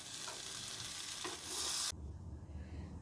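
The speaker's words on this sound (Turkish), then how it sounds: "tavada hala benim güzel lahanalarım kızarıyor" Cabbage sizzles steadily in a hot frying pan, a loud continuous hiss that abruptly drops to a quieter crackle partway through.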